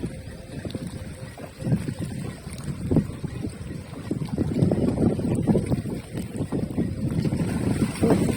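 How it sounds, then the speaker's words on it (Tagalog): Strong wind blusters against the microphone in continuous low rumbling gusts that build and stay loud throughout, while fishing. "Oras pa kaya kakalma tong hangin mga master."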